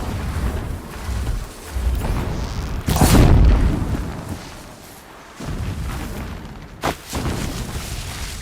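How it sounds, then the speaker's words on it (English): Distant explosions boom in a movie scene: a heavy rumbling blast around the middle and a sharper, shorter thud later, over low, continuous background rumble. "Explosions in the distance."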